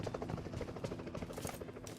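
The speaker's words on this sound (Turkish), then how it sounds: "Bu helikopter nereden çıktı şimdi?" A helicopter in the mobile battle royale game PUBG Mobile gives a steady, dense rhythmic rotor chop that stays loud and continuous throughout.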